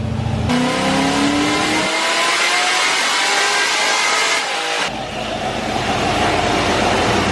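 A Corvette engine on a tuning session revs hard with a throaty roar, rising in pitch and dropping back in distinct surges, loud and close with no talk over it.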